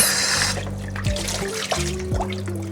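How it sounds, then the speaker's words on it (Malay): Tap water runs and splashes into a sink while raw chicken is washed, a steady close trickle with a few knocks and handling sounds and no talking. "Oke, kita cuci ayam."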